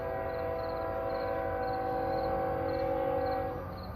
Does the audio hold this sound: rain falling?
no